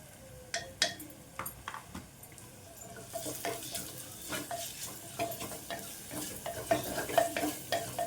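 Garlic rasam masala paste with turmeric fries in a pan, a soft sizzle under repeated scraping and stirring strokes. Spoon knocks against the pan come through at irregular intervals, close by with no talking.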